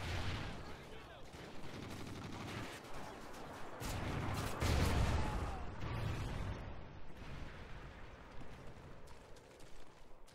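Gunfire in a Call of Duty: Ghosts multiplayer match, dense and continuous over about ten seconds, with bursts swelling midway, other battle noise mixed in, and a voice faintly talking beneath.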